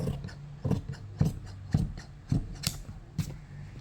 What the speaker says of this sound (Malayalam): ബെൽറ്റ് പീസ് നമ്മൾ തയ്യാറായി കട്ട് ചെയ്തെടുത്തു